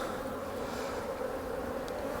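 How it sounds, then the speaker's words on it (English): Honeybees swarm around an opened hive during a frame inspection, a dense, steady buzzing close by that fills the whole moment with no voices. "Just move the bees away so that we don't crush any, just in here."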